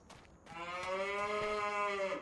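A single Angus cow in the farming video game Farming Simulator 25 lets out a long, drawn-out moo, close by and clear. A brief soft noise comes before it.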